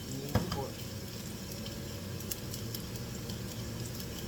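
Mushrooms stir-fry in a pan as filling for spring rolls, a steady close sizzle with a sharp clatter near the start and soft scraping under quiet talk.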